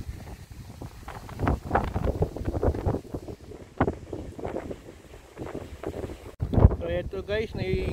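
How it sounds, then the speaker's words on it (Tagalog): Strong, storm-like wind at a tilapia pond buffets the microphone in rough, uneven gusts, with water sloshing and a short clatter near the end. "Ang lakas ng hangin."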